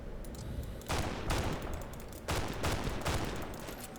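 Gunfire in a Fallout: New Vegas battle comes as dense bursts of rapid shots, with two loud volleys starting about a second apart over steady combat noise and no talking.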